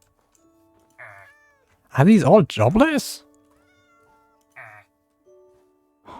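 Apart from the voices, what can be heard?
cats meowing in a video game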